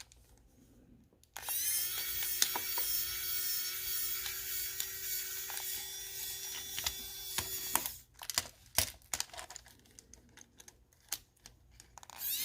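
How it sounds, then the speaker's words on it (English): Tiny screws are backed out of a model train coach with a small electric driver: a sustained high whirring buzz runs for several seconds, then stops, followed by scattered small clicks and handling taps. "First of all, we got to take these little screws off right here."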